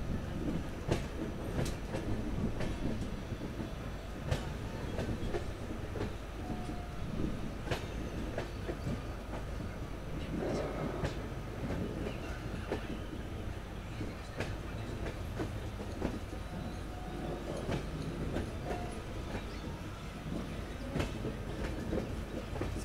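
The Satavahana superfast express rolls along the tracks between Kacheguda and Secunderabad, a steady rumble with repeated rhythmic clickety-clack wheel beats and occasional sharper rail clanks, heard continuously from close by.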